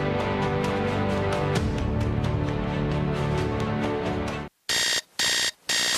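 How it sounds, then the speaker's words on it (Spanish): Music plays, then cuts out and an alarm clock rings in three loud, harsh electronic bursts separated by short gaps. "Suena la alarma."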